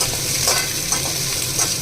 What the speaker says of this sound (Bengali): পেঁয়াজগুলো হালকা ভেজে নিচ্ছি।